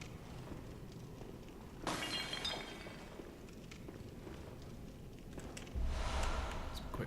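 Glass shatters and breaks in the Bloodborne video game as chairs and mirrors are smashed, with two separate bursts of crashing and tinkling shards amid a low ambient background.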